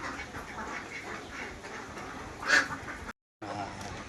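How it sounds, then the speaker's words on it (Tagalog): Ducks quack at a resort in San Luis, giving faint, scattered calls over a steady outdoor background, with one brief louder quack near the end. "Ito na naman to, itik din. Puro itik naman yun."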